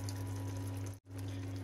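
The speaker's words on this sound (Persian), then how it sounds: "یه مقدار دیگه هم آب" Water is poured into a pan of lentil and eggplant stew, a steady splashing gush over a low hum, with a brief break before the pouring resumes.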